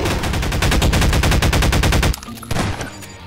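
Rapid automatic turret gunfire in Garry's Mod zombie survival mode, a loud dense burst of evenly spaced shots for about two seconds, then cutting off to a few scattered quieter hits.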